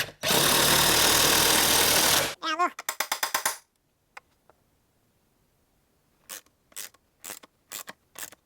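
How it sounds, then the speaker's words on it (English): Screws are tightened while a pressure washer is mounted on a wall. A loud whirring burst of about two seconds is followed by quick ratcheting clicks, then silence broken by a few sparse, separate clicks. "If you're tightening these up, be careful not to strip these out."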